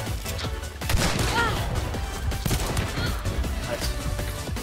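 In the video game Hunt: Showdown, gunfire crackles in a dense run of sharp shots and impacts at close range, continuing steadily throughout.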